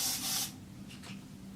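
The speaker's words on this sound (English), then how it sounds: "it's from L'Oreal, it's a Silk and Gloss volume spray" A L'Oreal Silk and Gloss volume spray mists onto hair in one short close hiss, followed by quieter rustling.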